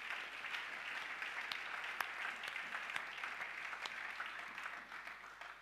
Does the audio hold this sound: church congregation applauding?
yes